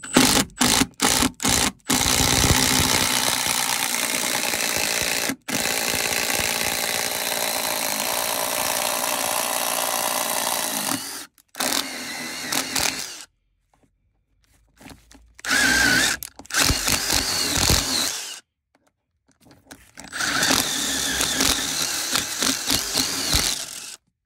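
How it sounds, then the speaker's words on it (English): A power drill bores down through the 2x4 top plate of a wall, running in long loud whirring stretches broken by short pauses and restarts. "We'll want to drill directly in front of our stinger"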